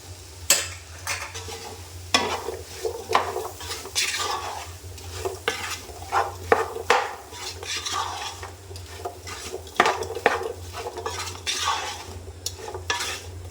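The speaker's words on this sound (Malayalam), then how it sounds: "ഇനി നമുക്ക് നമ്മളുടെ അരിഞ്ഞു വച്ചിരിക്കുന്ന ചാമ്പയ്ക്ക ചാമ്പയ്ക്ക ചേർത്ത് നന്നായി ഒന്ന് മിക്സ് ചെയ്തെടുക്കാം" Chopped rose apples are mixed in a pot for pickle, with a spoon scraping and clattering in busy irregular strokes over a soft background sizzle.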